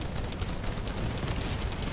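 Hand cannon fire in the shooter game The First Descendant: a dense, loud, continuous barrage of gunshots and impacts with no clear gaps, filling the whole stretch without talk.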